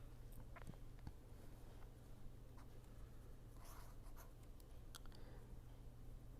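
Pen or chalk writing during an engineering lecture on beam models, faint scratchy strokes in short bursts over a steady low room hum, no speech.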